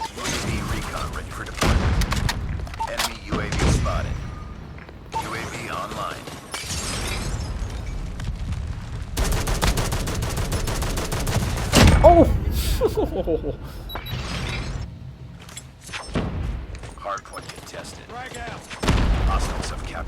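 Bursts of gunfire and explosions from the mobile shooter Call of Duty Mobile, loud and intermittent, come in clusters under and between frequent excited talking.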